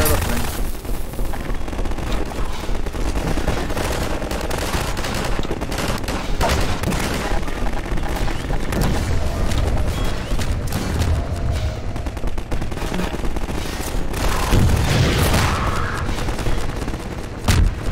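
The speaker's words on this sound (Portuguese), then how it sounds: "Muito tiro, tiro, tiro, muito tiro." Dense, sustained gunfire from Half-Life 2 combat, loud rapid automatic bursts and shots packed together across the whole stretch, with booming impacts mixed in and a voice talking over parts of it.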